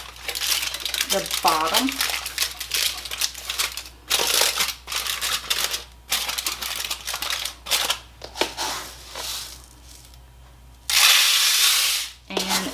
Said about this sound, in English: now I'm going to add enough rice into my foil here to cover